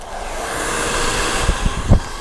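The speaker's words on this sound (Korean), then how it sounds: "드라이기 좀 주세요" Hair dryer blowing steadily during a professional haircut demonstration in a salon, a continuous broadband whoosh with a few handling bumps near the end, fairly close and without talk.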